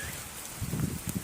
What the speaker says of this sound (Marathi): पाऊस बघा कसा पडतोय